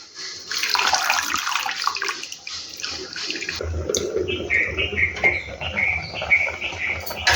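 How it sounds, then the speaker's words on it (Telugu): Fenugreek leaves are washed under running water, which splashes and gurgles steadily at close range. Brief chirping, bird-like tones come in during the second half. "ఒక గుప్పెడు మెంతి కూర కూడా తీసేసుకొని ఇలా శుభ్రంగా వాష్ చేసి పక్కన పెట్టేసుకుందాం."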